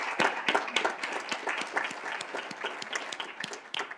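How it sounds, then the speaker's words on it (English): A round of applause at a school governing board meeting, a modest room of people clapping steadily with distinct individual claps standing out, moderately close and without speech. "We should give them a round of applause,"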